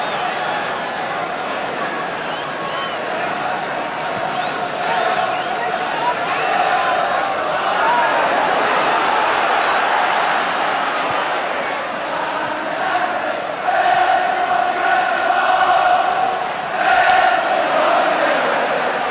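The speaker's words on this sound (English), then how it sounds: "The crowd now willing to cheer at every move." A football crowd at a 1972–73 First Division match at Wolverhampton keeps up a steady roar of cheering throughout, swelling louder near the end, with a commentator talking over it.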